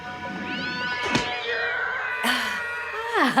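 A cat meows several times in drawn-out, rising and falling cries, close and fairly loud, with a few sharp yowls near the end and some faint background noise.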